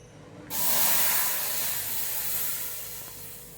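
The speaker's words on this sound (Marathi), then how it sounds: "आपलं दूध आता उकळलेलं आहे मी हे म्हशीचं दूध घेतलेलं आहे" Buffalo milk boils in a pan on a gas stove, a loud hissing, bubbling roar that bursts in suddenly and then eases slightly, heard alone and close.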